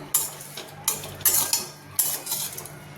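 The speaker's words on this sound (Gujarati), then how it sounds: "આપણે મુઠિયાને હલાવી લેવાના છે" Bottle gourd muthiya are tossed in a pan with curry leaves, a metal spoon scraping and clinking against the pan in several sharp, close bursts with no talking.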